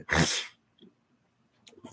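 A single loud, sharp sneeze bursts out close by, followed by quiet and then brief, faint speech.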